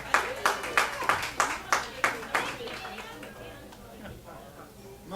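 Applause for a musician in a tavern and pizza place: a sparse handful of people clap in distinct, rhythmic claps for about two seconds, then it thins out under murmured room chatter.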